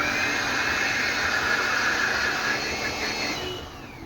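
A hair blow dryer whirs loudly and steadily at close range in a barbershop, a constant high-pitched airy roar that eases off slightly in the last moment.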